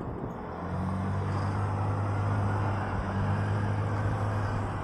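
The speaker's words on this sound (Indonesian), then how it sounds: "ada mobil guys. Padahal tadi kosong itu ya." A car passing close on a road, heard from a motorcycle, its engine a steady low drone that swells and holds over continuous road and wind noise.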